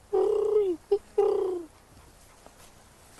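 A voice mimics a great horned owl with a few deep, hollow hoots, one long, one short and one long, close and clear against a quiet background.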